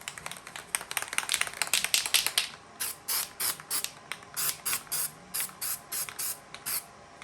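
A can of Rust-Oleum spray paint hisses as a light coat goes onto the back of a small metal piece, first as one longer spray, then as a quick series of short, even bursts, close and clear.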